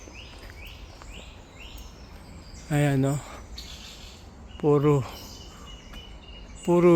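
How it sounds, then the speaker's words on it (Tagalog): Birds chirp and trill in the open air in repeated high bursts, with a voice speaking briefly three times between them. "huni ng birds ang ating maririnig dito sa loob"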